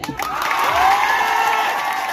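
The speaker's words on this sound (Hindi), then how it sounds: "इसलिए अपने लिए जोरदार ताली बजाओ।" A crowd at a public speech breaks into loud applause and cheering, a dense wash of clapping with a few whoops, sustained and close.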